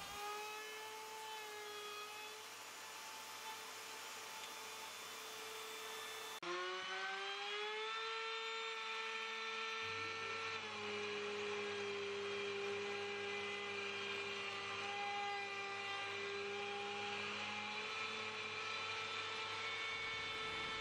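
A router mills a 30 mm deep bore along a template in several shallow passes, its high steady whine shifting in pitch as the bit engages the wood, loud and close without speech.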